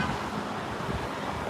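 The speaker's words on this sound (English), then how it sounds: "right now it's really windy" Wind blows outdoors by a railway line in Stuart, a steady broadband rush of buffeting air across the microphone, continuous and moderately loud with no talk.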